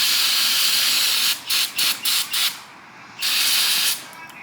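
Brake cleaner hisses from an aerosol can onto the brake of a 2024 Husqvarna 350 motorcycle in a steady close spray, broken into four short bursts before a second long blast.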